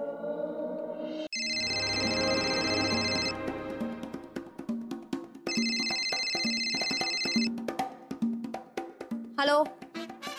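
A mobile phone ringtone rings out in a Marathi TV serial scene, two repeated ringing bursts with melodic background music running underneath.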